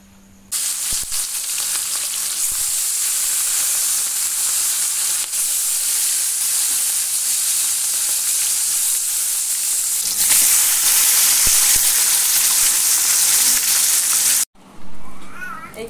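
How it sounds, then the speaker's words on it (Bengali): Fish frying in hot oil in a home kitchen, a loud, close, steady crackling sizzle that runs unbroken, briefly intensifying before cutting off near the end. "এখন মাছ ভাজবো আর মাছের তেল ভাজবো"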